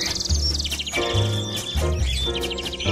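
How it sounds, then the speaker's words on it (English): Bright chirping bird calls flutter high above a busy music bed with deep bass and instruments, the twittering fairly constant throughout; the birds are a sound effect in Band-in-a-Box music software. "And we now have birds twittering away"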